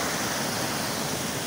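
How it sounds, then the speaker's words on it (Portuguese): A waterfall roars in a loud, steady broadband rush, constant and close throughout with no voices over it. "Sei se vocês estão conseguindo me ouvir por causa do barulho aqui da cachoeira."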